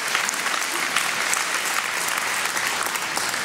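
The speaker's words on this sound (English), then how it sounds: "give them a round of applause" A crowd at a ceremony saluting firefighters and emergency heroes breaks into sustained applause, a thick, even roar of many clapping hands that holds steady throughout without letting up.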